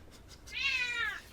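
A pet cat gives a single clear, drawn-out meow, fairly close and moderately loud, in an otherwise quiet room.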